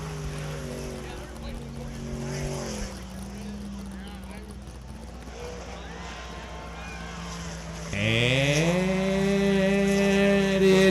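A racing sprint boat's engine spools up during a timed race run, its whine climbing in pitch and then jumping sharply louder as the throttle opens, with a commentator talking over it.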